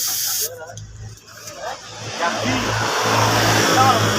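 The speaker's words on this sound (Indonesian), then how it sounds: "seperti ini langsung kita semprotkan ke bodinya begitu" A paint spray gun hisses as it coats the body panels of a Yamaha Mio motorbike in a street-side workshop. The steady, breathy spray builds after a brief pause and then runs continuously with a low hum beneath.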